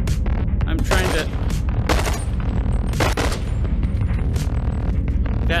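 Gunfire in the VR game Bone Lab on a Meta Quest 2, a loud, rapid volley of close shots and booms in quick bursts.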